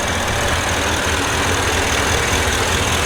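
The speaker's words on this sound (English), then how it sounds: "there's going to be some drivetrain noise, overhead cam, but it's a little ticky to me" A tuned Ford 6.7 Powerstroke diesel engine idling nearby, a steady, even low rumble with a faint rapid ticking running throughout.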